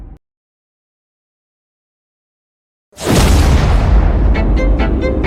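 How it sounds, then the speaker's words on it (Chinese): A loud, sudden boom of an animated iron ship exploding hits after a few seconds of silence, followed by a sustained roaring rumble with crackling debris that continues to the end. "的铁船爆炸了"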